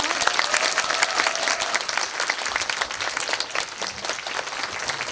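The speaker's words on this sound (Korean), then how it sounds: "박수 부탁드릴게요." An audience claps together in a sustained burst of applause, dense and steady, fading slightly toward the end.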